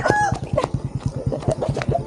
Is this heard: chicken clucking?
yes